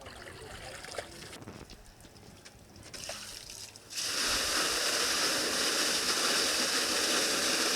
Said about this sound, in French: On va essayer de faire un test. Où on versera cette eau et on va voir comment le sol va pouvoir l'absorber de manière naturelle.